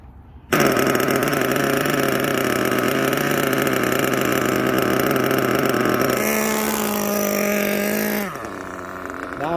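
A Kyosho USA-1 nitro truck's small engine runs steadily during break-in, loud and close, with a buzzing high-pitched drone. Near the end it drops in pitch and then cuts back.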